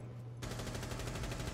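Automatic gunfire in the video game Rainbow Six Siege, a rapid even burst of shots that starts abruptly and runs steadily for over a second over a low background hum.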